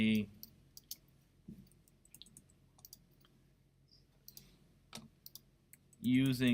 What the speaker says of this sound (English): and then I click with the mouse whatever's selected